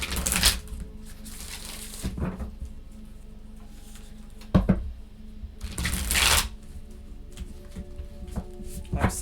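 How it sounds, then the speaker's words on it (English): A tarot card deck is shuffled by hand in several bursts of riffling and flapping cards, close and crisp, with quieter handling between them. "It's so weird when I try to shuffle this deck."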